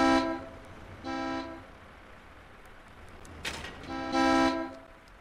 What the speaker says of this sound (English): Sometimes I want to just blow up them trucks from all the excessive honking that they do.